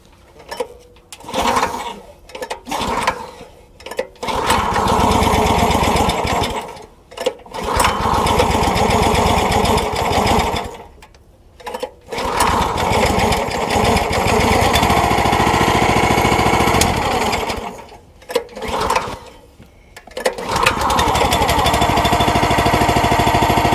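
A wood splitter's small engine runs loud and close in long sustained stretches, its rough mechanical drone broken by several short gaps or dips, with no talking.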